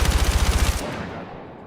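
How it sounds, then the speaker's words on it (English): Automatic assault rifle fire in the Counter-Strike video game, a fast, even burst of about a dozen loud shots that stops sharply and leaves a fading echo. "Assault rifle."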